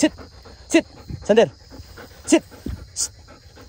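A pet dog panting in bursts close by, quick breathy pants mixed with someone talking and praising it over outdoor background noise.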